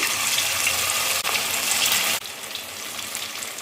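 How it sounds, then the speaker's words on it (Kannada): Cauliflower pieces fry in hot oil in a pan with a loud, dense, continuous sizzle that dips briefly twice, with no talking. "ಈಗ ಗೋಬಿಯನ್ನು ಹಾಕಿ ಫ್ರೈ ಮಾಡ್ತಾ ಹೋಗಬೇಕು"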